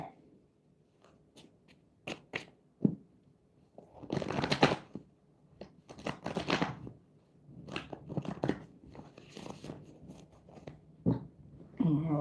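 Tarot cards are shuffled close up in quick papery riffles and slaps, coming in uneven bursts with short pauses between.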